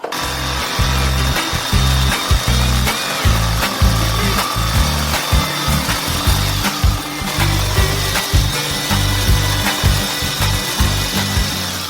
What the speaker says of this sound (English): we'll take a jigsaw with a fine-toothed blade and cut out the insert along the outline